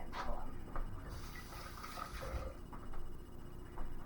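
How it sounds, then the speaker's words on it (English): Water running from a kitchen tap while hands are washed, a soft continuous splashing stream, fairly faint and close, with light clatter over it. "I gotta wash my hands."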